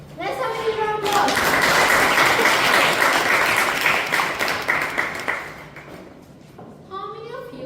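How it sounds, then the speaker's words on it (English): Applause at a Toastmasters club meeting, a loud round of clapping from the audience lasting several seconds between stretches of a speaker talking. "Let's have a big round of applause."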